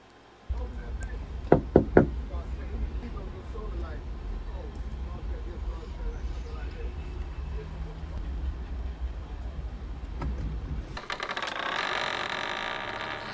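Knocking on a door during a live stream, two or three sharp loud raps near the start over a constant rumbling background, with talk following.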